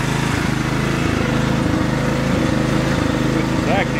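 A small riding lawn mower engine running close by with a steady droning rumble, used to tow a welder outdoors on a windy day; a voice is heard briefly.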